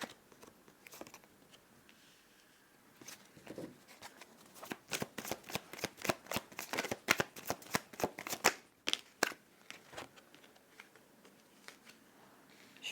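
Tarot cards being shuffled and drawn by hand, with soft papery riffles building into a fast crackling flurry in the middle, then slower single snaps and slides, close and fairly quiet.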